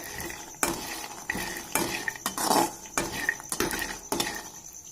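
Sprouted gram being dry-roasted and stirred in a pan at home, with repeated scraping and clinking of a spoon against the metal and a soft sizzle between strokes, close and steady.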